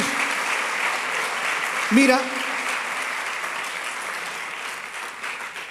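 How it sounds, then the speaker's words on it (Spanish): A church congregation claps steadily throughout, a dense wash of applause with a short voice or cheer rising briefly in the middle. "Le damos un aplauso al Señor."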